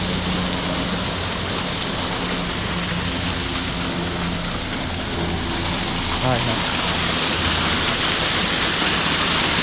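A waterfall on the Kedarnath trek roars loudly and without a break, a wide rushing noise that fills the whole scene, with people talking under it.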